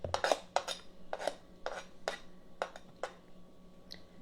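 Chopped peppers and onions tumbling into Jiffy cornbread batter, a series of short clattering knocks and scrapes against a bowl at an irregular pace, close and fairly light, with no talking.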